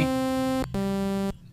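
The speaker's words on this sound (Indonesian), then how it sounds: "mulai dari saw, karakter suaranya seperti ini." Two sustained, buzzy sawtooth synthesizer notes from FL Studio Mobile, rich in bright harmonics, played one after another with a brief gap, the second pitched a little higher, then cut off.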